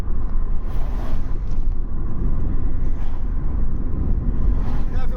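A Vauxhall Cavalier Mk3 2.0 on worn tyres drives steadily, its engine and road noise forming a constant loud low rumble throughout, with no clear gear changes.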